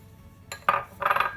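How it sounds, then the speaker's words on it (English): Sugar is spooned into a mixing bowl of rubbed-in margarine and flour for marmalade buns, giving a couple of short, close scraping clinks of the spoon against the bowl with no one talking. "we're going to add in 1 tablespoon of the sugar"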